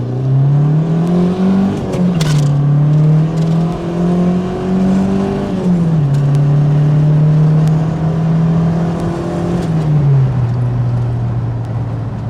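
A turbocharged Dodge Lancer sedan with side-exit exhaust pipes accelerates, its loud close engine drone climbing in pitch and dropping at each of several gear shifts.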